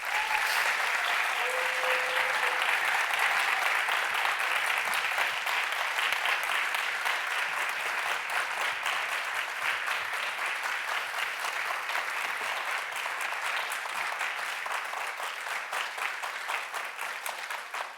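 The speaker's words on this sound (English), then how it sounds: "Let's have our 5 finalists on the stage and give them a big round of applause." Sustained audience applause for five finalists walking on stage at an awards ceremony, even, dense clapping that continues for about eighteen seconds without letting up.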